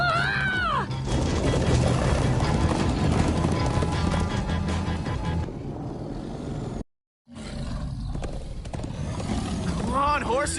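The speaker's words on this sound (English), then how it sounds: "Come on, horses!" Horses gallop and neigh in the Minecraft Story Mode video game, with rapid drumming hoofbeats, loud whinnies and a roaring rush under excited talk, briefly cutting out near the end.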